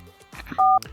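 Touch-tone phone keypad beeps: two loud, steady dialing tones follow some light handling noises as a number is punched in.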